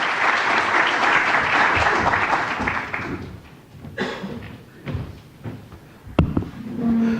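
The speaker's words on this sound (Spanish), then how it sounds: "les pido un aplauso para ellos, que se tomaron el trabajo para venir" A conference audience gives a burst of applause at a financial-tax seminar, dense clapping filling the first three seconds, then thinning into scattered claps and room noise with a sharp knock near the end.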